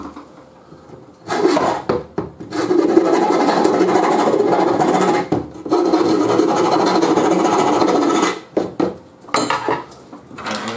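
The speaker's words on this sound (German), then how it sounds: "Da muss ich auch noch mal mit der Feile bei." A file rasps across a wooden part in long, loud, close strokes, a few seconds each, with short pauses and small knocks between them.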